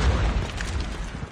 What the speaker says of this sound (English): A nade did get him, so I'm guessing he didn't push.